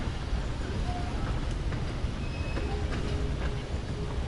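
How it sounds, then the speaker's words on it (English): Train rolling along rails in the video game Red Dead Online, heading out toward Armadillo; a steady low rumble with faint wheel clatter and occasional thin squeals runs throughout. "We're on this train headed back out to Armadillo."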